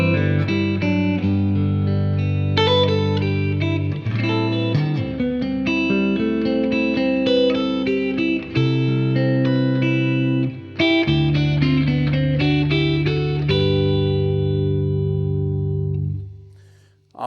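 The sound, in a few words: Yamaha Revstar electric guitar in open G at full volume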